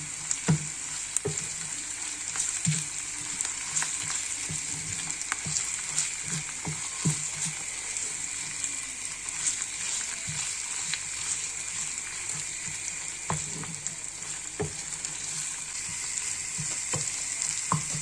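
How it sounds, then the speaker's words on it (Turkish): Onions and two spoonfuls of tomato paste fry and sizzle steadily in a pan, with a spoon stirring and scraping the mixture in frequent short knocks throughout, close and fairly loud with no talking. "Şimdi içerisine 2 yemek kaşığı domates salçası ekliyoruz. Ve karıştırıyoruz."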